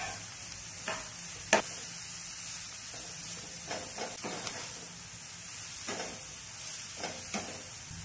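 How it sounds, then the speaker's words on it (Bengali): Carrot, cabbage and capsicum stir-fry in a pan over a medium flame for veg noodles, a steady soft sizzle and hiss running throughout, broken by a few faint scraping stirs and one sharp spatula tap, close and unaccompanied. "এবার গাজর, বাঁধাকপি, ক্যাপসিকাম গুলো দিয়ে 3 থেকে 4 মিনিট মিডিয়াম ফ্লেমে কুক করে নেব।"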